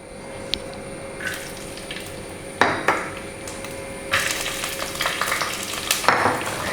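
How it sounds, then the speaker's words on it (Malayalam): Ginger and garlic sizzle in hot coconut oil, a loud close frying crackle broken by several sharp scraping bursts of stirring with a utensil against the pan. "ഞാൻ ഇതിനകത്തോട്ട് ഇഞ്ചിയും വെളുത്തുള്ളിയും ചേർത്ത് കൊടുക്കുകയാണ്."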